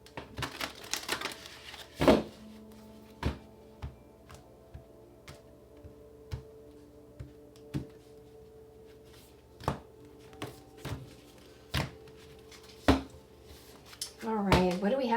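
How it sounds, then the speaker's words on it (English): A tarot deck is shuffled by hand, giving sharp, irregular taps and riffling clicks spaced across a quiet background, ending in a denser flurry. "One last shuffle."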